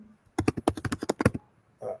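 Fast, close typing on a computer keyboard: a quick burst of about a dozen crisp key clacks in steady rhythm, followed by a brief soft thump.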